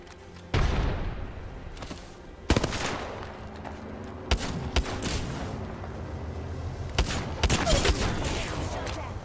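Gunfire in the battle royale game Apex Legends comes as several loud, sharp bursts separated by short gaps, with rapid-fire crackle and booming impacts close by.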